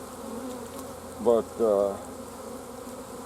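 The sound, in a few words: honeybees buzzing while installing a nuc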